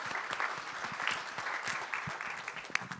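A town hall audience in Marion County gives the presentation team a round of applause, steady mid-level clapping from many hands that continues unbroken throughout.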